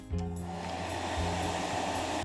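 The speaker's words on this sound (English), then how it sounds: "And finish off with a hairdryer." A hair dryer blows over resin art with a steady, whooshing hum after a quick click on, running continuously and fairly close.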